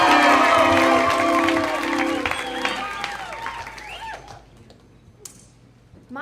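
Audience applause and cheering for a storyteller at a Moth GrandSLAM championship, loud clapping with whoops that fades over a few seconds into near quiet, leaving a few isolated sounds.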